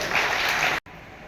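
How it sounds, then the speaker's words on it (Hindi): An audience in a hall applauds, a dense wash of clapping that cuts off abruptly after under a second, leaving quiet room tone. "आप ताली जरूर बजाइए।"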